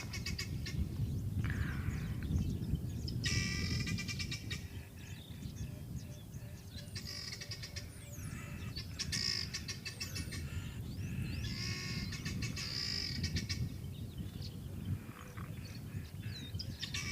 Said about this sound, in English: Don't even know if you can hear me over the racket of the guinea fowl.